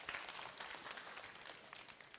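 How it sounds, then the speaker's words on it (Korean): Celebratory applause breaks out for a quiz winner at a church youth group service in Gunsan, a fairly quiet, steady patter of clapping from a small group that continues throughout. "우리 축하 박수."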